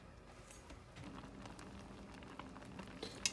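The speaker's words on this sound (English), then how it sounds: "I'm going to let it come back to a boil" Strawberry jam with added sugar boils in a pot as a soft, steady bubbling and popping, faint and close, with a few sharper ticks near the end.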